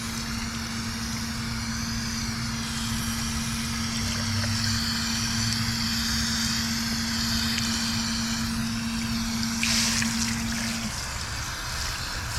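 Water sprays steadily onto a dirty car test panel coated with a Gyeon ceramic coating, making a continuous hiss and splatter, with a low steady hum running underneath.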